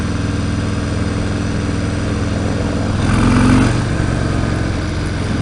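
A 2018 Harley-Davidson Breakout motorcycle engine rumbles loudly and steadily up close, swelling briefly as it accelerates under roll-on throttle before settling back to a steady drone.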